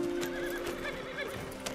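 A horse whinnies and its hooves clip-clop in the open-world Western video game Red Dead Redemption 2, with steady game ambience and no talking.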